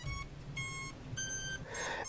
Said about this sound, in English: that beeping sound is because it has a beeper in it to find it